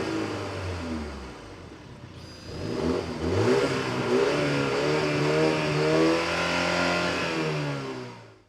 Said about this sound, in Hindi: आइए चलते हैं पीछे की तरफ एग्जॉस्ट के पास और मैं स्टार्ट करके यहाँ से आवाज़ आपको सुनाता हूँ